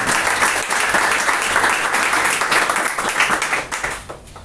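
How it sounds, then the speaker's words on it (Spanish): Strong, sustained applause from a church congregation, dense and fairly close, holding steady for several seconds before tapering off slightly at the end. "Denle un fuerte aplauso al Señor."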